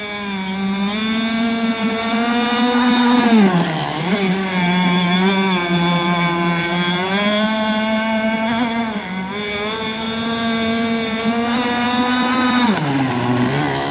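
A Zenoah 26cc two-stroke gas engine on an RC boat runs at about half throttle, a loud, buzzing, close drone that holds steady with brief dips and recoveries in pitch.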